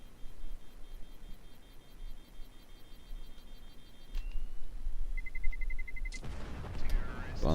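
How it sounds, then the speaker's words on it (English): A planted bomb detonates in a CS:GO match, a sudden loud blast that comes near the end after a quieter stretch of game ambience and beeping, with a brief earlier crack partway through. "Bomb goes off."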